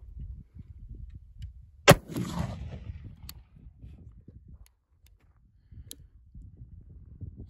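A single sharp, loud shot from a black powder revolver during a chain fire test, ringing briefly into a rumbling decay before fading to quiet outdoor background.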